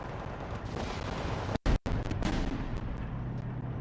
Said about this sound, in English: Here comes the artillery barrage.